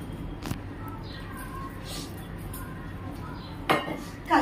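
Tiffin boxes being packed in a home kitchen, with a few light clinks of metal containers and utensils at scattered moments over a faint hum, including a sharper clatter near the end.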